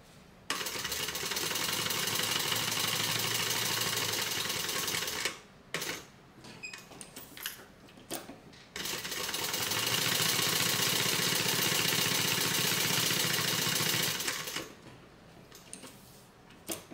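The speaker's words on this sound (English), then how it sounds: "I am going to just stitch around." A sewing machine runs in two long, steady buzzing bursts while stitching around a small pocket on a handbag, with a short stop-and-start pause of uneven stitching between them; close and fairly loud, with no talking.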